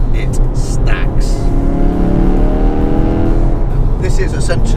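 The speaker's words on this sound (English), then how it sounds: "This is essentially a straight through exhaust leading to a fairly inadequate silencer." A Ford Focus RS hot hatch revving hard in a low gear through a straight-through exhaust with a small silencer, a loud, sustained engine roar with a rising tone, heard up close and without speech.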